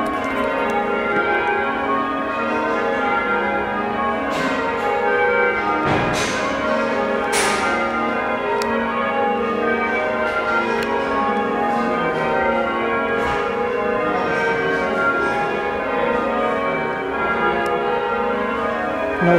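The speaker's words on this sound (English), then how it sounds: "It's a visiting band, that's why you can hear them bells fall." A visiting band of ringers rings the church bells of St Martin le Grand in York. The loud, continuous peal has overlapping bell strikes tumbling in steady rounds and carries on throughout.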